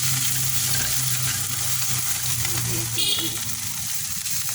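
Cashew and poppy seed paste stirred while frying in a pan, a loud, close hiss of frying with scraping stirs, under faint background voices.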